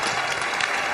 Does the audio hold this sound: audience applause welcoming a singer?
yes